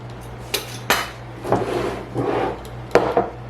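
Half pint glass jar being handled while setting up for pickling, several sharp clinks and knocks against a hard surface mixed with rubbing and scraping, close and fairly loud with no talk.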